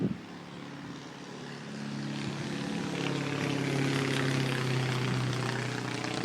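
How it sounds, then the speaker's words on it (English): Propeller aircraft passing overhead on the flight path near Moorabbin Airport in Melbourne, a steady droning engine hum that swells slightly louder and lasts throughout, heard alone. "You might be hearing the aircraft overhead."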